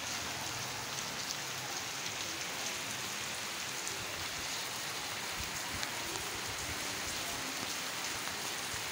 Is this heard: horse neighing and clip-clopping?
no